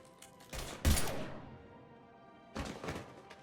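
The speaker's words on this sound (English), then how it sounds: "Now open fire!" Gunfire in the video game Mass Effect Legendary Edition: two clusters of loud, sharp blasts with a heavy thud, separated by a quiet stretch.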